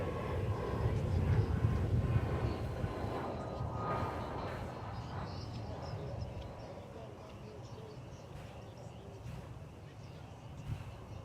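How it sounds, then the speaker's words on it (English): An airliner arriving at DFW on the flight from Baton Rouge, a broad engine roar loudest early and slowly easing off, with chatter and radio talk over it. "Here comes the flight from Baton Rouge."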